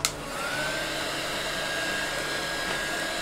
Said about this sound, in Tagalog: Gagamit tayo ng blower.